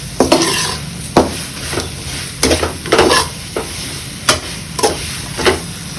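A spatula stirs beef masala with fresh mint in a hot pan, scraping and knocking in repeated close strokes over a continuous loud sizzle.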